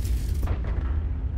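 A tank cannon fires in World of Tanks, a heavy low boom followed by a rolling rumble that fades while the bright upper crackle drops away partway through.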